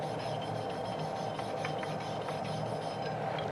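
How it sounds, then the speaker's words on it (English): Steady rasping of a wire brush scrubbing loose mill scale off steel before MIG welding, a continuous close scratchy texture with no talk. "It's probably advisable just to give that a light wire brush, just to get rid of anything that's loose on the surface."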